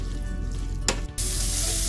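Ground pork fries in a pan with a close, steady sizzle and crackle, broken briefly by a short clatter and a momentary dip before the sizzling resumes.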